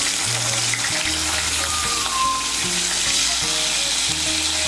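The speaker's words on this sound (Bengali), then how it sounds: "এঁচোড়টাকে হালকা করে ভেজে নেব।" Boiled young jackfruit pieces fry in hot oil, a loud, close, continuous sizzling hiss that holds steady from start to end with no one talking.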